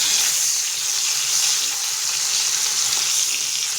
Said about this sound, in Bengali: ওখানে মাছটা ভাজা হচ্ছে